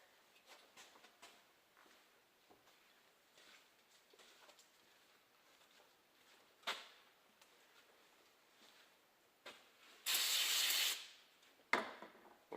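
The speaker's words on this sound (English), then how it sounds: "We're going to spray a little brake cleaner on the rag" A quick hiss of aerosol brake cleaner spray bursts for about a second onto a rag amid quiet workshop clatter and faint rubbing, followed by another short spurt, during reassembly of a Ford 5.4L engine.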